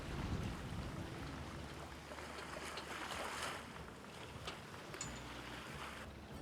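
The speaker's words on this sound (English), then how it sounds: "wind is picking up again" Wind gusts and water rush around a small sailboat out on the water, a steady broadband blowing and splashing with faint creaks, fairly quiet and without talk.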